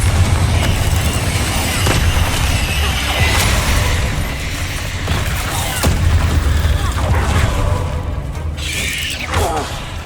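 Bombarda and Confringo explosion spells in the game Hogwarts Legacy go off as loud, continuous booming blasts and crashes with heavy low rumble, one burst rolling into the next.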